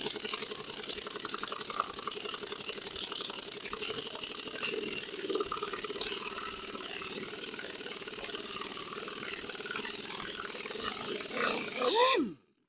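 Stuck bolts being worked loose from an aluminum boat trailer wheel, a steady grinding, ratcheting mechanical noise running close and continuous for about twelve seconds before stopping abruptly.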